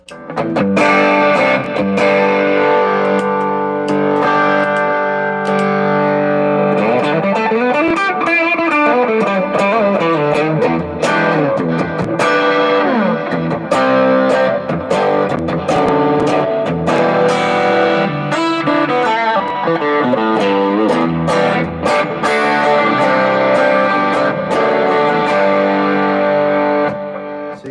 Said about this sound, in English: So I could add the Timmy overdrive.